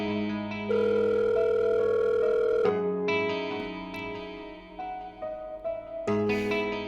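Steady telephone dial tone hums alone on a handset line after a call is hung up, then shifts into warbling, broken electronic tones.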